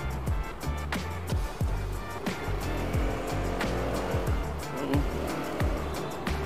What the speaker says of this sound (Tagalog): Traffic pa rin dito. Sabado, may traffic.